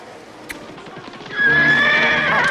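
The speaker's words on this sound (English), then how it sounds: "At once, Jack appeared, riding on a horse and leading 2 horses." A horse whinnies loudly with a long, rising neigh after a brief patch of quieter hoof clatter, used as a story sound effect for a rider arriving on horseback.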